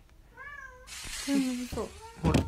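A cat meows several times in quick succession, close and clear, with tonal wavering calls mixed with a person talking alongside.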